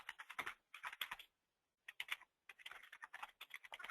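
Fingers type on a computer keyboard in quick clusters of light clicking keystrokes, broken by short pauses, faint and close with no talking.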